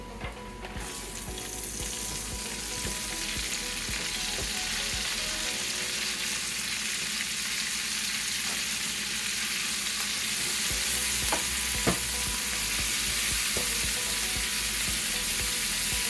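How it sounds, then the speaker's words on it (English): Cabbage fries with onions in bacon fat, giving a steady, dense sizzle throughout with occasional soft clicks of stirring close by. "Going to mix that down in there with the onions and the bacon fat, and let that cabbage cook."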